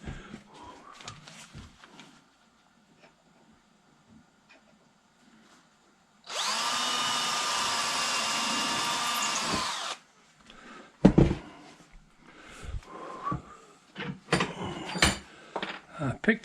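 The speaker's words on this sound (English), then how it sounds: "Don't want to drill my finger." A power drill whirs steadily for several seconds, loud and close, with scattered knocks and handling noises before and after.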